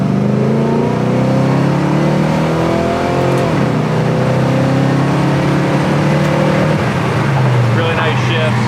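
1970 Chevelle SS V8 accelerating while driving, a loud, continuous engine roar rising in pitch, easing off, then building again, with faint speech under it.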